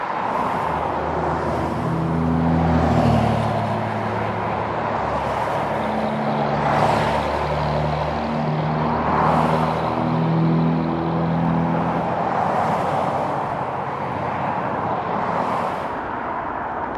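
Heavy road traffic streams past a touring bicyclist on the Pacific coast, cars and trucks whooshing by one after another in loud repeated swells over a constant roadway drone.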